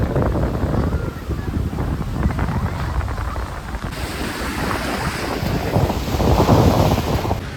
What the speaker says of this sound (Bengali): এক একটা ঢেউ আসছে, দেখো সাদা ফেনা হয়ে আসছে